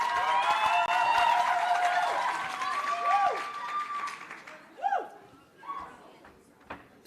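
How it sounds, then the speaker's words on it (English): Applause from an audience at a learner-leadership summit for learner leader Oraktile Mokwele, with clapping that fades from a full burst into scattered claps and whoops toward the end. "probably the most rapturous applause for Oraktile"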